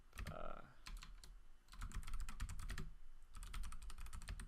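Rapid clattering keystrokes on a computer keyboard, typed in quick bursts with brief pauses, close and clear, with a faint voice in the background.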